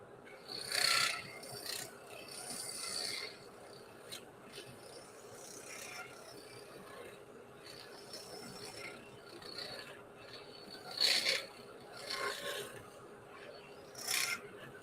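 Quiet, intermittent rasping of a file trimming and shaping a small piece, with a few louder scraping strokes at irregular intervals over a faint steady background.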